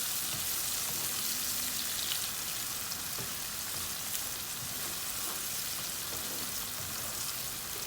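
Onions fry in a pan for a fish curry. A steady, dense sizzle crackles continuously at moderate volume throughout, with small pops and occasional stirring scrapes and no talking.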